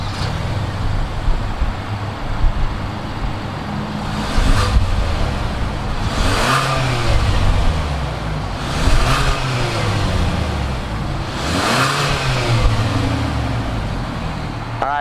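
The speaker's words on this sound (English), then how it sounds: "let's go ahead and fire up this direct injected turbocharged engine" A 2019 Hyundai Santa Fe's direct-injected turbocharged engine runs close by and revs up and falls back about four times in a steady rhythm, with no voices.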